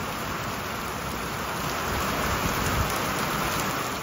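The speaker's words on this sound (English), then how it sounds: "Trying to wait this rain out just a little bit." Steady, heavy rain hissing continuously, a dense wash of drops with no pauses and no voices.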